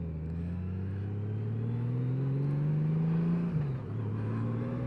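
A Honda Gold Wing motorcycle engine revving, a smooth rising drone that climbs steadily, peaks, then drops back to a lower hum, heard at moderate level with no talking.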